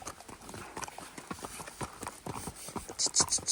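Pony hooves clip-clop in a steady walking rhythm, faint and close, with a few brighter clinks near the end, recorded outdoors on a Sunday outing with ponies.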